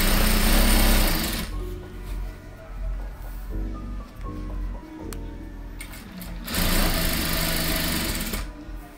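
A sewing machine runs in bursts while stitching a delicate hem on a cloth diaper, its loud mechanical whir starting, pausing briefly mid-clip and surging again near the end, with no talking.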